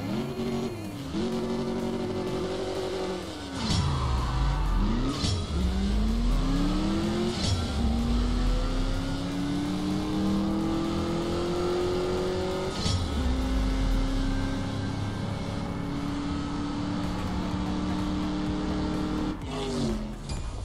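A Chevrolet C10 racing in CSR Racing 2, the engine roaring loudly as it revs up through repeated gear shifts, with tire squeal and skidding over a sustained drone and no talking.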